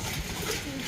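Racing pigeon back home after a long journey, eating grain and cooing softly the whole time, a low continuous murmur heard up close with no talk.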